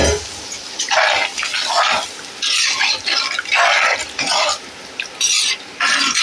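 Water is poured in short splashing bursts into a tamarind kara kuzhambu with vendakkai, several close gushes separated by brief pauses.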